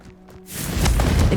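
Confringo spell cast in Hogwarts Legacy, a burst that swells from near silence into a loud, sustained fiery crackle and rush lasting about a second.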